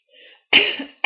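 Two sharp, close coughs, a short pause between them, after a faint breathy sound.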